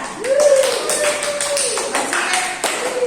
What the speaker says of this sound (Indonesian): Tepuk tangan untuk Mbak Fitria